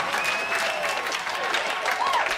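Audience applause on a TV show, a dense wash of clapping with cheering and faint whistling tones running over it.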